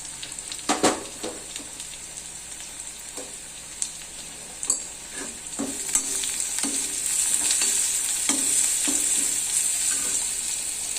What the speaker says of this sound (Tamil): சாதாரண உருளைக்கிழங்கு எண்ணெயில் பொரிப்போம்